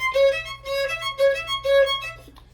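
A violin plays a quick scalar passage in one hand position with three fingers, moving upward through short, clear, bowed notes in a lilting rhythm, close and solo with no voices.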